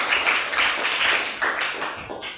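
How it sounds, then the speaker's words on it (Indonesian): Applause from a classroom group of students, a steady wash of many hands clapping up close and filling the room throughout. "Tepuk tangan buat semuanya."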